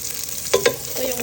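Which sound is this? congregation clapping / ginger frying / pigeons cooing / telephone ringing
ginger frying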